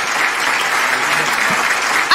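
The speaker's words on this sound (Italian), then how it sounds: "voglio un applauso forte perché quando c'è l'emozione" Audience applause at a live Italian music show after a song, steady dense clapping that holds loud and even throughout.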